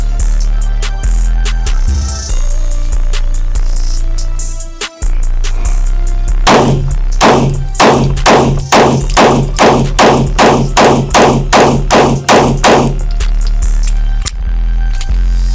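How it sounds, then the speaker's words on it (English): Fifteen rapid pistol shots fired from a Canik compact 9mm at 15 yards, loud sharp cracks in a fast steady string, preceded by handling clatter and a hum of the outdoor range. "15 yards, 15 shots in under 15 seconds."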